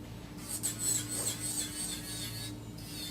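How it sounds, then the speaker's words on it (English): An electric nail drill bit grinds away cuticle during a Halloween coffin-shape manicure, giving a faint, steady high-pitched whine that wavers slightly as the bit moves, with no talking. "It's kind of satisfying to actually remove the cuticle with the drill bit."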